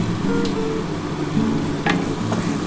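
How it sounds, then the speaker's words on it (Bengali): Spiced water poured into a pan of katla fish with gandharaj lemon, giving a steady close sizzle and bubbling frying hiss throughout, with a few brief clinks of utensils. "এই যে মশলার জলটা আমি দিয়ে দিচ্ছি এর মধ্যে"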